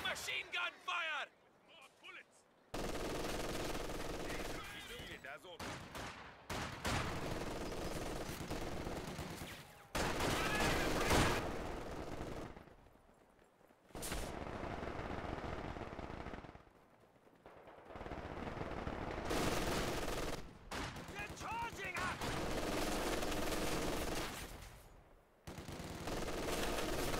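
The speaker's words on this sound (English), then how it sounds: "Taking machine gun fire!" Sustained bursts of machine gun fire, including MG42 fire, rattle through a Company of Heroes 2 battle, long rapid volleys broken by short pauses, with voices speaking over the gunfire at times.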